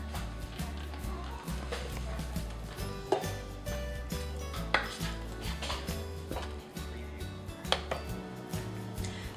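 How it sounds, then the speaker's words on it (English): Cake batter scraped from a mixing bowl into a baking pan, with repeated clinks and knocks of a utensil against the bowl over a steady background hum, plus a few sharper taps. "So now we're going to transfer our mixture into our pan."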